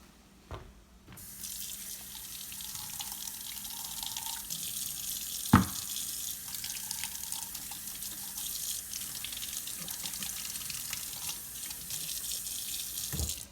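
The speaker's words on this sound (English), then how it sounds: "I'm gonna rinse these tops off really well." Vegetable tops are rinsed under a running kitchen tap, with a continuous close stream of water throughout and one sharp clunk near the middle.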